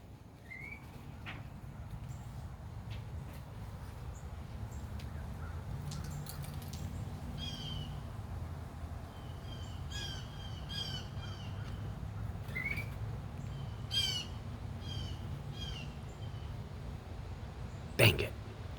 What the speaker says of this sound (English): if I can, I'm going to show you this bird